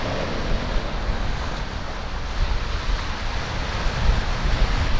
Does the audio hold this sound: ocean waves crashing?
yes